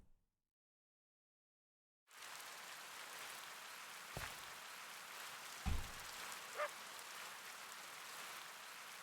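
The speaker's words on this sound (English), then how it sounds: "Sounds like a rainstorm." Steady broadband rain hiss of a Minecraft rainstorm begins abruptly after two seconds of silence and continues evenly, with a couple of brief low thumps partway through.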